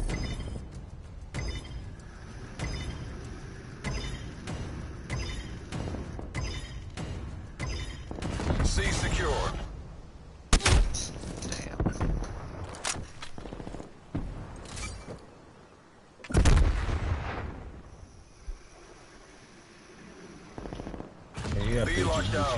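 Gunfire in a PS4 online shooter, with repeated rifle and machine-gun bursts spread across the scene, near and far, several heavy blasts standing out and a person talking over the action.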